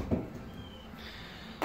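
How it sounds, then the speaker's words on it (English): A door swinging shut on a test bench holding a Honeywell SS-125 high-intensity tower beacon, heard as a soft thud near the start and a second sharper knock at the end, close by and fairly quiet, with no talk. "I'll shut the door."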